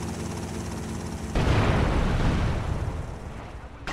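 Explosion in GTA Vice City, a sudden heavy blast bursting in over quieter game sound and rumbling on for a couple of seconds before fading, heard alone without talk.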